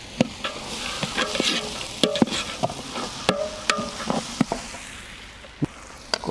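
Onions and garlic frying in a pan for a quail egg gravy in a village kitchen, with a steady sizzle broken by sharp scraping clacks of a spoon stirring against the pan at an irregular rhythm.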